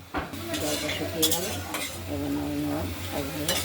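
Drumstick greens and drumstick flowers are stirred in a pan, with soft sizzling under scraping spatula strokes and light clinks of utensil on metal. A faint hum runs beneath.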